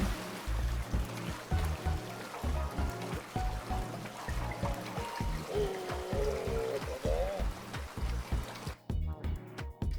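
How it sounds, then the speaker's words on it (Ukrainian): Water let in within the video game Machinarium, a steady pouring, streaming flow with rhythmic mechanical thumps underneath, continuous and fairly full before cutting down near the end. "Тепер можна і впускати воду."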